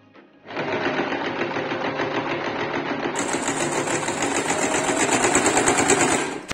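A sewing machine runs a straight stitch with the pedal pressed, starting abruptly and holding a steady, fast, loud mechanical whir with a rapid rhythmic chatter throughout, close up and without talk.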